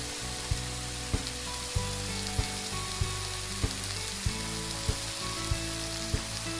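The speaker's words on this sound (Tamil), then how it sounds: "நல்லா அப்படி வதக்கி நல்லா அந்த நெய்யிலேயே நல்லா போட்டு பெரட்டி" Lamb, tomato, onion, ginger and garlic sautéed in ghee inside a cooker, giving a dense, even sizzle with a steady low hum and regular spoon taps about every half second.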